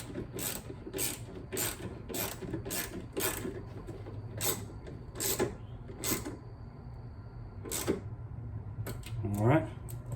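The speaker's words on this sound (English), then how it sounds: "this is that long bolt, so it takes a little bit to tighten it down" Ratchet wrench cranking down a long bolt on a Dodge Challenger Hellcat, a run of sharp, evenly spaced clicks in steady rhythm up close, with a brief pause and a few quicker clicks near the end over low background hum.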